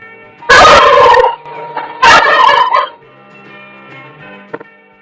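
A domestic turkey gobbles loudly in two rapid warbling bursts about a second and a half apart, then softer clucks and faint background noise trail off.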